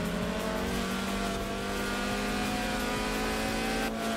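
A rival car's engine in the Forza Horizon 4 racing game gives a thin, high, nasal buzz like a mosquito, holding a loud, steady drone throughout, with no speech.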